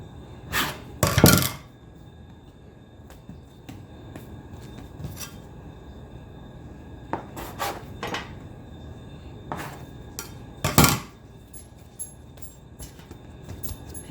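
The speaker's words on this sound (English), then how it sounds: "we're gonna use our dough cutter to evenly break up the pieces" A dough cutter chops bread dough into even pieces for bread bowls on a kitchen counter, giving a handful of short, sharp scraping knocks and clinks spread across quiet room tone, with a couple of louder hits early and near the end.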